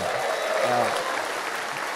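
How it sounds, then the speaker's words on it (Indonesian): Applause from an audience at a business forum with an Indonesian presidential candidate fills the clip in a steady, dense wash, with a voice faintly heard under it. "Tepuk tangan dong."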